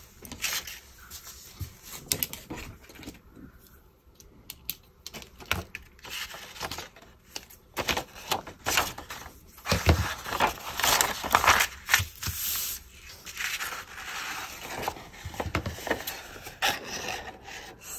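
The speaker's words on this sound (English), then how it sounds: "I'm going to cut it just on the other side of it, right up to the fold" Paper is cut along a line right up to the fold while a journal signature is made. The cutting makes an irregular, close rasping and scraping texture with louder bursts midway and no speech.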